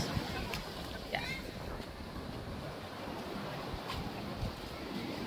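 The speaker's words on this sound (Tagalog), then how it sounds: "Hindi kami makababa kasi malakas ang alon. Pero magandang simoy ng hangin." Strong sea waves and wind at the shore in Mauban, Quezon: a continuous broadband roar of surf and gusting wind with occasional louder swells, steady throughout.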